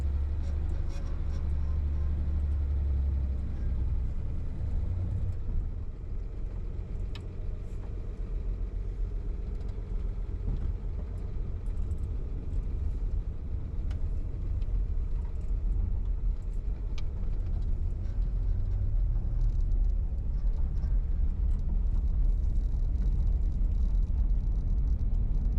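A 1955 Chevrolet Bel Air cruising on a country road, a steady low engine rumble and road drone heard from inside the car, continuous with occasional faint talking.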